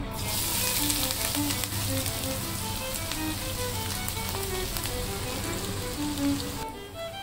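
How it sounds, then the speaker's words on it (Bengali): Chopped onions fry in hot mustard oil with whole garam masala, giving a steady, close, crackling sizzle that holds evenly for several seconds before easing slightly at the end. "এবার আমি পেঁয়াজ কুচি দিয়ে দিচ্ছি"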